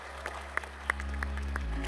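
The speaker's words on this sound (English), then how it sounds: "A big round of applause, everyone." An audience at an awards ceremony claps for a Paralympic silver medalist, a few scattered loud claps standing out over a steady background hum.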